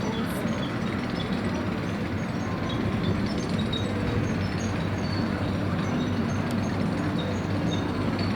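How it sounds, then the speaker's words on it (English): The Smiler roller coaster chain lift at Alton Towers rattles and clanks in a steady, continuous mechanical drone, fairly loud and close, with no voices. "it sounds like Smiler's chain lift"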